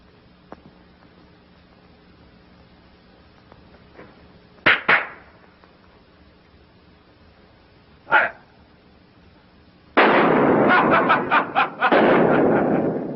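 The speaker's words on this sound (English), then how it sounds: "Fire again. Empty your gun." Gunshots in an old black-and-white film: two sharp reports close together, then a single shot a few seconds later, before a burst of rapid, noisy crackling blasts at the end.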